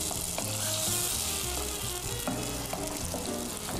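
Crushed tomato sizzles and crackles steadily as it hits a hot frying pan, a dense continuous frying hiss close by with no voices.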